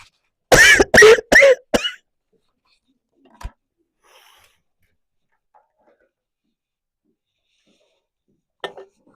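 A person coughs in a quick burst of four harsh, close coughs, then goes mostly quiet with a faint thud and another brief cough-like sound near the end.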